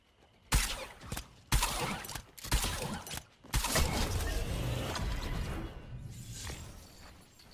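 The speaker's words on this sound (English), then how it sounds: "Here's a quick clip of that new harpoon gun in game." Harpoon gun in the Fortnite video game firing in a quick sequence of sharp, loud shots with whooshing and mechanical clatter, followed by a sustained rumbling, crackling stretch of game action; no speech.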